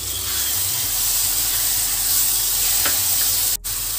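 Chili paneer sizzles and fries loudly in a hot pan as tomato ketchup is added, a steady close hiss running throughout with a brief stir near the end.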